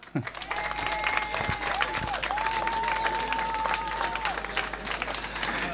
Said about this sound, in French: déjà ça mérite un applaudissement de votre part.